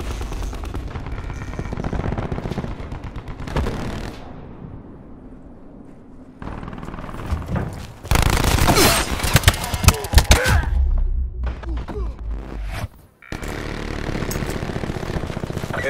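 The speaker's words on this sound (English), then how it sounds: "Sentry turret coming online." A sentry turret in Call of Duty Black Ops 4 fires amid a battlefield mix, with stretches of rapid automatic shots, loud bursts in the middle and brief lulls between sections.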